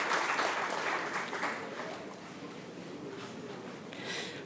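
An audience at a book launch applauds to welcome the event's chair, a journalist, starting fairly strong then settling into softer, thinning clapping before a brief swell at the end.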